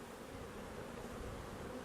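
Honey bees buzzing around a hive in London, a dense steady hum of many insects close by, continuous and unbroken with no voices.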